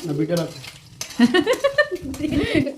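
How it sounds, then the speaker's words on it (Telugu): An omelette fries in a pan with a soft sizzle and the scrape of stirring utensils. The cooking sounds come in short bursts while voices talk over them. "మస్తు వేస్తున్నావుగా ఆమ్లెట్"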